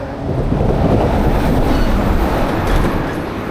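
A train rumbles past steadily at close range, a dense continuous roar of wheels on track with no voices.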